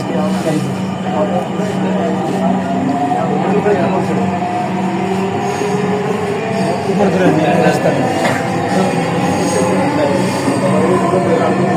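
A Dhaka metro rail train rumbles steadily along with a constant low hum and rattle, heard from inside, loud and close, filling the whole stretch without pause.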